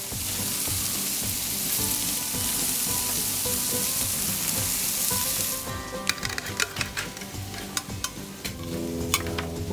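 Bacon and sausages frying in a pan for an Easter brunch, a loud, even sizzle for several seconds that gives way to crackling spits and pops as food is stirred and shifted, close up with no voices.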